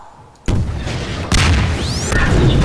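In the Half-Life 2 Deathmatch game, an RPG rocket explodes: two loud, close booms half a second and about a second in, followed by a sustained rumbling roar and a brief whooshing sweep.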